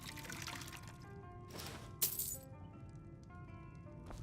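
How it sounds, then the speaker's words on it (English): Water is poured in the Skyrim video game, a steady trickling stream with a bright glassy clink partway through, fairly quiet and heard alone against faint tavern background hum. "Like a refill of water, for sure."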